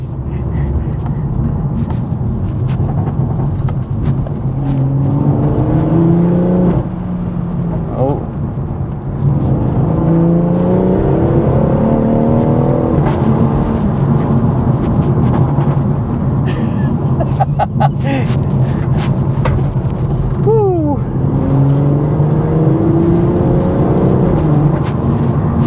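BMW M140i Shadow Edition hot hatch, a 460 bhp car, revving in Sport mode on a wet road, its engine note rising and falling steadily throughout, with people talking over it.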